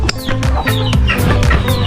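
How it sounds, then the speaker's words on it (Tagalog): Several chickens cluck and squawk in quick, overlapping bursts from inside a ventilated sack, close and loud, with no talk. "nandito po yung mga manok sa loob"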